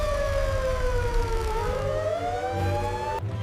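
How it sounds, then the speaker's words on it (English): Wailing siren sound effect, its pitch sliding down and then up in a continuous sweep for several seconds before cutting off abruptly, heard over low background rumble with no talking. "Suddenly, they heard sirens."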